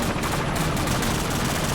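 Rapid gunfire in Call of Duty 4, a dense, loud stream of automatic shots at a fast, even rhythm, alone without talk.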